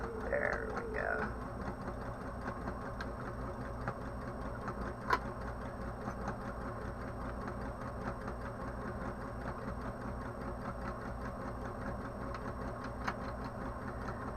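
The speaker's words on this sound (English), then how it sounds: "if my machine decides it wants to sew with me today" Close by, a sewing machine stitches an origami apron with a steady whirring hum and fine ticking that runs without a break for the whole stretch.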